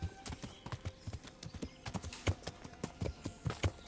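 In the medieval Bohemian game Kingdom Come: Deliverance, a ridden horse walks along with regular, close-sounding clopping hoofbeats, each strike crisp and evenly spaced over a quiet backdrop.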